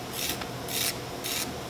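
A hand scraper drawn across curly wood stock in short rasping strokes, four close scrapes repeating in a steady back-and-forth rhythm.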